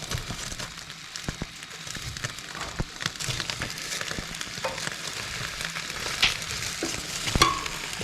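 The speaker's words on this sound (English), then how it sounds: "Can hear them actually sizzling." Steady crackling sizzle of potatoes frying in a hot pan at an off-grid cabin, continuous and close, with a few sharper pops and scrapes.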